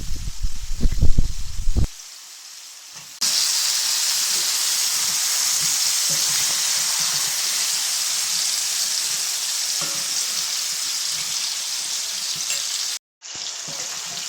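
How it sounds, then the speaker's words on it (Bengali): Cauliflower pieces go into a hot pan for a fish and cauliflower curry, setting off a loud, steady frying sizzle and hiss that runs nearly unbroken after a brief quiet, with a short cut near the end. "এখন আমি সবজি দিয়ে দেবো সবজিগুলো দিয়ে সুন্দর করে কষিয়ে নেবো"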